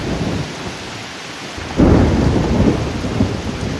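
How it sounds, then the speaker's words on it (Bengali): Heavy rain pours onto a pond while a loud rumble of thunder rolls in about halfway through, deep and sustained over the steady hiss of falling water. "বিদ্যুৎ চমকাচ্ছে তো, আরে জল পড়ছে পুকুরে"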